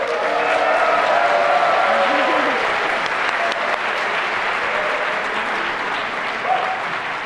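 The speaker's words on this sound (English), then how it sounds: "Give yourselves a big round of applause" Sustained, loud applause from a graduation audience of 2015 Electrical Engineering graduates and guests, a dense, even wash of many hands clapping in a large hall.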